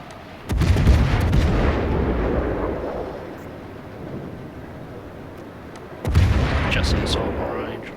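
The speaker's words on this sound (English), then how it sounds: "Let's just send some rounds his way." Naval gunfire from the German cruiser Yorck in World of Warships: two heavy booming salvos several seconds apart, each a sudden loud blast that rumbles and fades slowly, with faint background sounds between them.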